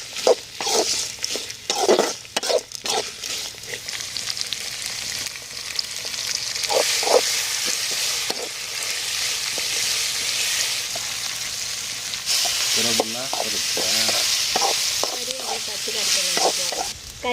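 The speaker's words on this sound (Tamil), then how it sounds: "இப்போ எல்லாம் எண்ணெயில் நல்லா வதக்கிட்டோம்." Dried chillies, lentils, urad dal and garlic sizzle in hot oil for a pirandai chutney, a continuous bright frying hiss broken by several scraping stirs of a spoon against the pan, close and fairly loud.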